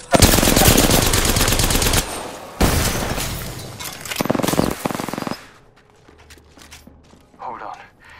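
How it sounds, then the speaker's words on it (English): Rapid automatic gunfire in the video game Apex Legends roars in loud, dense bursts, cutting off after about five seconds, followed by sparse clicks and a brief spoken line. "The enemies are shooting at me."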